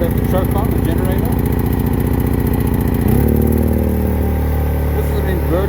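A portable inverter-type generator runs with the choke still on, a loud, steady, rough engine drone with a clattering pulse that shifts to a deeper, heavier tone partway through, close to the listener.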